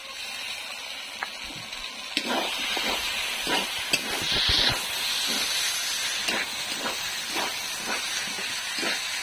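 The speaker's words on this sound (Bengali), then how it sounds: "এবার আমি ওর মধ্যে দিয়ে দেবো সর্ষে বাটাটা।" Mustard paste hits hot oil in a pan for a vegetarian jackfruit and paneer curry, giving a steady close sizzle and hiss with soft stirring scrapes throughout.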